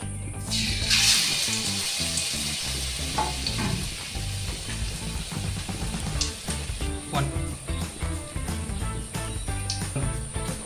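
Gram-flour-coated potato chops sizzle and crackle in hot oil, a steady frying hiss with small pops and clinks, close up.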